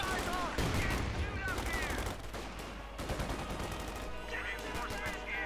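Bursts of MG-34 machine gun fire and scattered gunshots from the video game Company of Heroes 2, rattling repeatedly through the battle noise, with a commentator talking over it.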